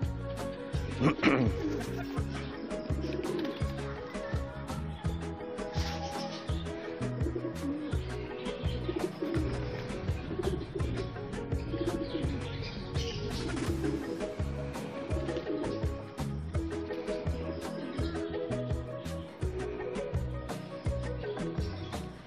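Soft, low pigeon coos repeat throughout at close range from a cage, mixed with rustling, wing flutters and faint background noise, with no one speaking.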